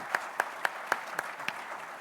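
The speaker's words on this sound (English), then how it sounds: "Can I get a round of applause for our panel here?" Audience applause at a conference as a panel discussion wraps up, with a handful of sharp, evenly spaced claps standing out over a steady wash of softer clapping throughout.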